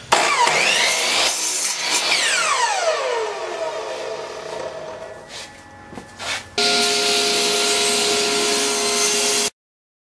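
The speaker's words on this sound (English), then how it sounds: "So here I'm doing a miter cut for the bottom box frame." Power saw making a miter cut on wood for a bottom box frame, with a whining motor spinning up and winding down, rubbing and cutting noise, then a loud steady high whine for several seconds before stopping abruptly.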